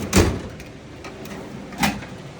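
A drawer holding Craftsman power-tool batteries slides open, with a thump at the start, a faint rolling scrape, and a second knock near the end, close and alone with no talk.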